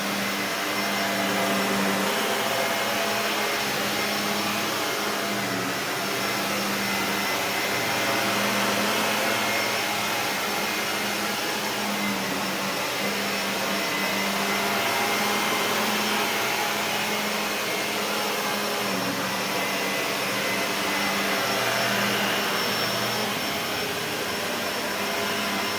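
A Shark Lift-Away ZU560 vacuum cleaner with self-cleaning brushroll runs continuously, a loud, steady whooshing motor roar with an even airflow hiss and a faint tonal whine, close by and uninterrupted for the whole stretch, no talking.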